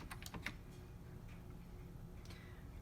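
Several quick key taps on a computer keyboard as a command is entered during an SD card fix for a modded CounterCade arcade unit, a brief cluster of clicks near the start, then faint scattered ticks over a low steady hum.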